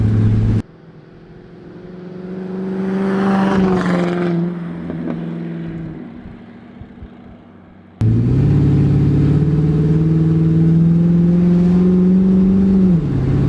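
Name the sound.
loud Hemi V8 car driving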